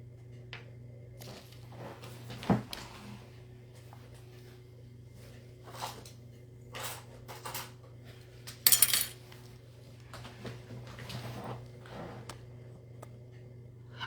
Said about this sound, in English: had to grab my spoon